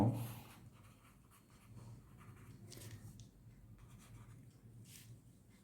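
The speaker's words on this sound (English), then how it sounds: "Let me write it down here." Pen writing on a surface during a physics lecture on ensembles, faint scratchy strokes in short bursts at close range, with no talk over them.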